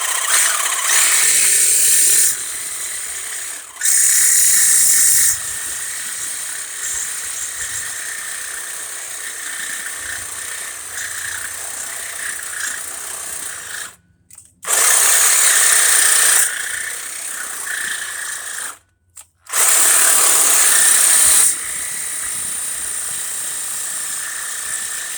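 A power tool cuts through the exhaust pipes of a 1996-2000 Honda Civic DX right at the flange, a loud high whining screech in long sustained bursts separated by brief pauses.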